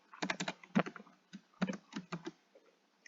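Typing on a computer keyboard, close and crisp, with short bursts of rapid clicking keystrokes and small pauses between them in a quiet room.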